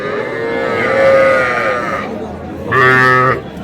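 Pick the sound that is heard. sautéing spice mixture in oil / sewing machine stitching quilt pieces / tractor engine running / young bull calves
young bull calves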